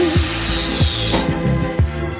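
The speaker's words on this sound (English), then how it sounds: "these brackets are just a little bit too long, so I'm gonna go ahead and grind down the sides" A power tool grinds down the sides of metal brackets for Lasfit LED lights on a Nissan 240SX, loud and close, with repeated bursts of contact and a rising whine between passes.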